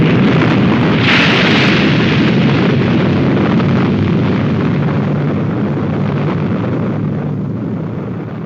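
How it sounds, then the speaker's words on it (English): A huge explosion roars in a dramatized action adventure scene, a sustained heavy rumbling blast that swells early and then slowly fades across several seconds. "The explosion had knocked me out cold."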